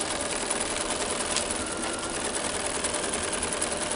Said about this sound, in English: and so I'm top stitching this seam